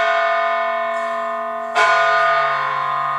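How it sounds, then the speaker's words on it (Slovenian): Church tower bells ring loudly inside the belfry in Ptuj, a sustained resonant tone followed by a fresh heavy strike that renews the ringing, heard up close with no voices. "Kot lahko slišimo, je zelo živo in živahno v tem stolpu, smo ravno sredi zvonjenja."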